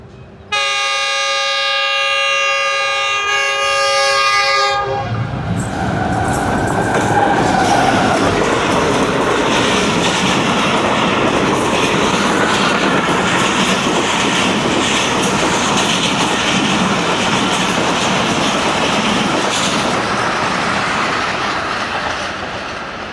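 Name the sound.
train passing at speed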